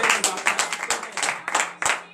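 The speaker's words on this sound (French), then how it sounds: "je vous demande à nouveau d'applaudir très fort" A morning prayer congregation clapping loudly, sharp close hand claps in a quick irregular rhythm that swells into rhythmic bursts, with voices faintly underneath.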